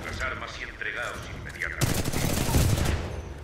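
Titanfall 2 gunfire erupts in a dense, loud automatic burst after a stretch of quieter game sounds and talk, continuing to the end of the clip.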